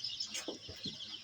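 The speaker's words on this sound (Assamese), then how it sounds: "মুৰ্গীবিলাক পূৰা ফূৰ্তিত পানী খাই আছে" Chickens on a poultry farm cluck softly while drinking water at drinkers, a few short clucks and murmurs over a faint background hum, brief and quiet with no speech.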